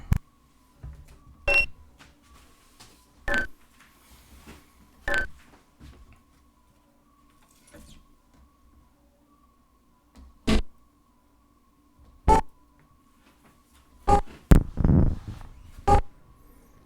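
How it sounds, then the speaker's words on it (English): Sharp percussive hits are played on a trashed Numark turntable, about ten separate clicks and thumps spaced irregularly over quiet hum, with a denser rumbling cluster near the end. "This is one turntable doing one percussive element."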